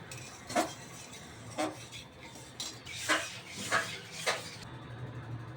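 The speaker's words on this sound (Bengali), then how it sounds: "আলু সেদ্ধ হয়ে গেছে, এবার আমি ঢেলে নেব" Boiled potatoes are poured out of a cooking pot in a home kitchen, with several metallic clanks and scrapes of pot and utensil at irregular intervals over a soft background hiss, close and moderately loud.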